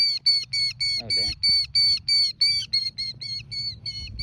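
A bird calls in rapid, repeated high-pitched chirps, a steady run of bright piercing notes close by, with brief low voice sounds underneath.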